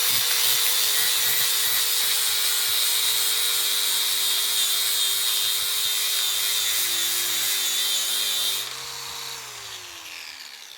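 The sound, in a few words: angle grinder with sanding pad on paving stones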